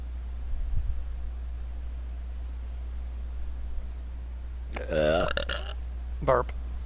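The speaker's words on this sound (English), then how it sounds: "Burp." A loud, drawn-out burp sounds about two thirds of the way through, followed by a shorter second burp, over a steady low hum after a quiet stretch.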